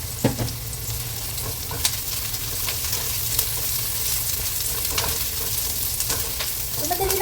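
Onion and dried shrimp sauté in hot oil for a mung bean stew, giving a steady, close sizzle throughout with light scraping and stirring clinks from a utensil.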